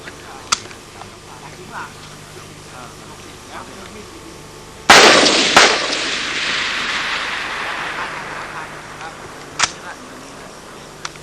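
A single loud gunshot rings out during 1991 field training of the 30th Cavalry Battalion, followed by a long echoing rumble that fades over several seconds, with sparse outdoor sounds and occasional sharp clicks around it.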